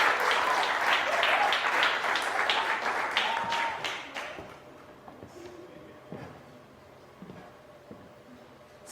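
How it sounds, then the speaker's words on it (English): A school quiz-competition audience applauds loudly for a contestant, dense clapping that fades to scattered claps and a quieter hall by the midpoint. "Let's give a huge round of applause to Amuge."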